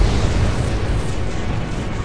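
Explosions tear through the capital ship Tantalus as it goes down in the space combat game Strike Suit Zero, a loud, continuous, deep rumbling roar with dense crackling bursts layered throughout.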